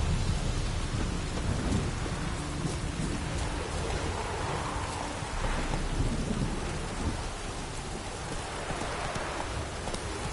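Steady rainfall with rolling thunder in the game The Witcher 3, a dense continuous hiss of rain with low rumbling swells throughout, no voices.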